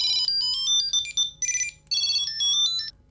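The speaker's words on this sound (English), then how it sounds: "it will play a ringtone on the device" A Bluetooth item tracker plays its ringtone: bright, rapid electronic beeping melodies in short bursts, loud and close, with no talking.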